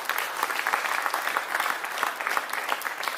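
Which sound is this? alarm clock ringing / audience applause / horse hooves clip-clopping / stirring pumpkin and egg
audience applause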